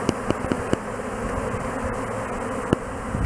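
A honeybee swarm hums as a steady, dense buzz close by, with several sharp brief clicks or taps rising above it near the start and once near the end.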